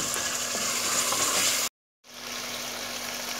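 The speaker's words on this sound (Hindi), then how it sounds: "अब इन आलू को हम अच्छी तरह भून लेंगे।" Potatoes fry in a spiced masala with a steady, close sizzle and a soft hiss; the sound cuts out briefly, then resumes at a lower, even level.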